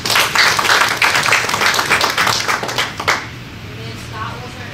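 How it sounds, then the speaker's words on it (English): An audience at a talk on a large city's economic development gives a round of applause, steady clapping that swells and then tapers off after a few seconds. "give it a round of applause"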